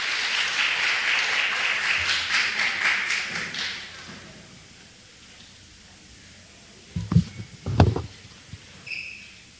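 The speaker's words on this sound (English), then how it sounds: "Let's give her a round of applause." An audience in an Anglican church at a Christmas service in the Bahamas claps for a few seconds and the applause fades out. After a quiet pause come a couple of dull thumps and a brief high chirp.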